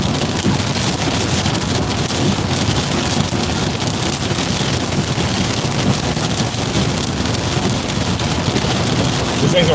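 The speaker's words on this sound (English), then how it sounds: "There is dense hail in this storm in the center of it." Heavy rain roars steadily during a thunderstorm with hail near Midlothian, Virginia, a dense, loud, unbroken wash with wind buffeting the microphone.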